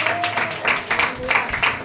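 A church congregation at a service in Mustabad claps in a steady, rhythmic beat. The clapping sits close and fairly loud, with a voice carrying over it.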